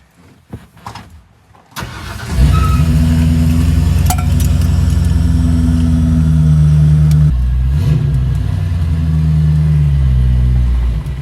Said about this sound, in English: Get the car out the way.